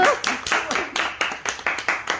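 An audience at an evening bookshop talk claps in loose, rhythmic bursts, a short round of applause heard close and clear with no one speaking over it.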